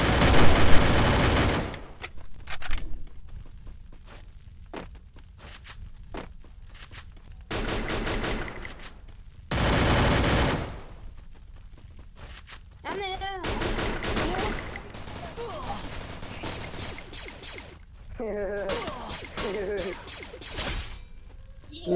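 Video-game gunfire in Free Fire erupts in loud automatic bursts and fusillades, separated by quieter stretches with mechanical clicks and effects, while players talk intermittently over the action.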